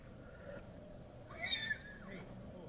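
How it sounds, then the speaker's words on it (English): A horse whinnies at a campsite near the Grand Canyon rim, one fairly faint, somewhat distant neigh lasting under a second against quiet outdoor ambience. "Oh, that sounds like a horse."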